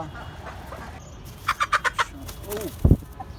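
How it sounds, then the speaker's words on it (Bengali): A hen gives a quick run of five sharp clucks, then a louder squawk, with faint background noise between. "তো এইদিকে হচ্ছে টাইগার মুরগিটা"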